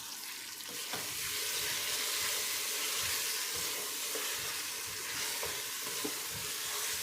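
Spices with turmeric, salt and red chilli fry alongside tomatoes in a pan for chicken palak gosht, a steady sizzle with faint clicks and scrapes of stirring throughout, no voices.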